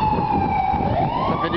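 A New York fire engine siren wails steadily on a city street corner, a loud sustained tone sliding slowly in pitch over traffic rumble, with no talk.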